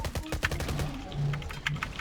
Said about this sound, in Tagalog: Bumabaril galing sa bundok.